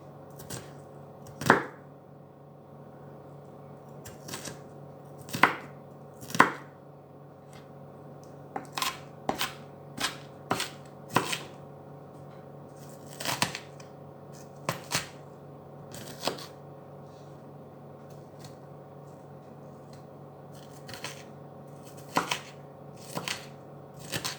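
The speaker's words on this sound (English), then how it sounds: "I'll just chop a few other the bigger bits, making sure it's nice and fine, so that way you're not getting a great big piece of onion" Onion chopped finely with a knife on a board, a run of sharp close knocks in irregular clusters with pauses between, over a low steady background hum and no talk.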